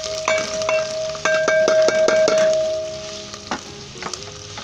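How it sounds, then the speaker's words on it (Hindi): Onion, ginger, garlic and chili frying in oil for an Indian potato egg curry, sizzling under a run of quick metallic stirring clinks from a utensil against the pan, heard alone. "सबसे पहले हमने 3 टेबलस्पून ऑयल डालकर इसके अंदर प्याज, अदरक, लहसुन और मिर्च डाल देनी है। इसे लाइट ब्राउन करना है।"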